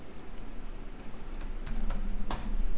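Keystrokes on a computer keyboard while editing an Ansible configuration file in a Linux terminal: sparse, fairly quiet taps, bunching into a brief cluster of sharper clicks in the second half, with no voices.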